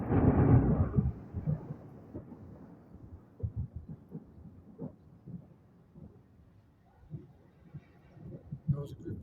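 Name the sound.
thunderclap at the start of a thunderstorm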